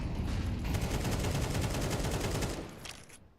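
Grenade blast in Counter-Strike during a competitive match, a loud sustained rumbling burst of explosion and gunfire noise lasting a few seconds before fading out.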